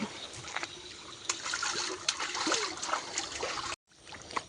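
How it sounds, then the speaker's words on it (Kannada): Water running out of a garden trickles and splashes where it reaches the roadside, a close, uneven babble of dribbles and small splatters that cuts off briefly near the end. "ಅದು ತೋಟದಿಂದ ಹೊರಟ ನೀರು ಇಲ್ಲಿ ರೋಡ್ ಸೈಡಿಗೆ ಬಂದು"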